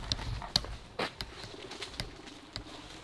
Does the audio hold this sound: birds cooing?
yes